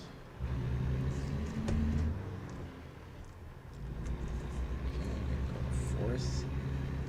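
A truck engine in a driving video game revs and drops as the driver shifts up from first using the splitter on rough terrain, with a moderate rumbling drone that swells, dips and climbs again.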